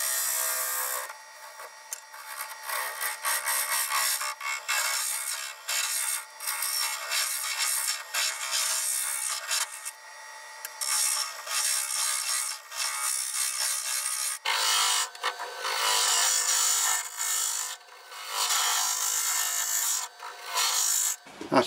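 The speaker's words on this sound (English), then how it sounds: "I'm just going to put a 3/8 ball gouge inside and just make this wider." Wood hollowing on a lathe with a 3/8 ball gouge, widening the inside of an ornamental birdhouse: a steady, close scraping and rasping cut that runs continuously, with brief pauses and one shift in tone midway.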